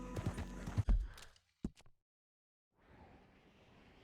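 Horse hooves clip-clop in Red Dead Redemption, a few sharp thuds mixed with game sounds, then a quick pair of hoofbeats before silence and faint ambience.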